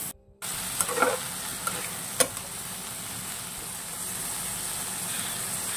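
Potatoes stirred and fried in a wok with cumin, cardamom, cinnamon, garlic, chili and onion, a dense steady sizzle broken by a few scraping stirs near the start, with no voices.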